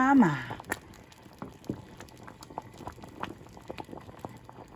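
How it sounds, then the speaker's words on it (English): Peach cobbler with peaches and vanilla bubbles in a pot, with soft irregular pops and gurgles that sound close and steady, after a brief vocal exclamation at the start. "Good bubbly love in this pot."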